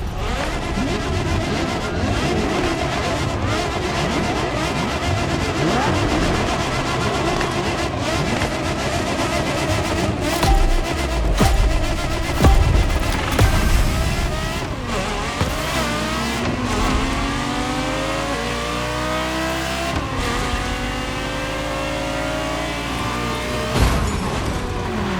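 German car in the racing video game The Crew Motorfest, its engine revving hard and climbing through the gears with rising and falling whines, loud and continuous, with tire noise and occasional talk mixed in.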